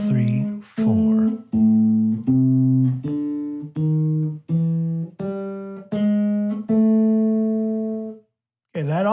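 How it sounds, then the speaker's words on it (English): A bass plays a walking line of sustained single notes, stepping evenly from one pitch to the next, with close chromatic moves between them. "that also is beginning to sound a little bit like a bass line"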